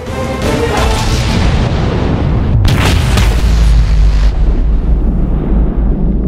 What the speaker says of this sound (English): Once this is pulled, the guns are fired.